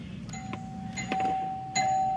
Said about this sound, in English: The old ugly doorbell's back up and